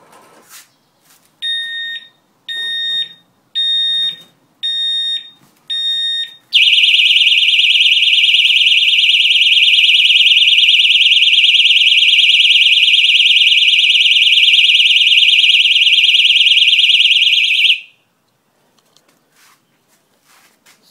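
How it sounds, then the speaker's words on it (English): A motorcycle alarm goes off close by, starting with five short evenly spaced beeps and then holding one loud continuous electronic tone for about eleven seconds before it cuts out. "My own private motorcycle alarm."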